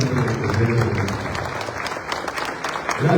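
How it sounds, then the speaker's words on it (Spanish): Applause from a standing audience of staff honoring two commissioners at an open plenary session of Morelos's public information institute, steady and fairly dense clapping with a low crowd murmur, sustained throughout. "todos los compañeros nos pongamos de pie y les brindemos un aplauso a nuestros dos comisionados"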